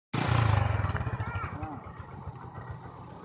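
A vehicle engine cranks and fires up loudly with a pulsing low rumble, then settles into a steady idle, heard close up with some voices in the background.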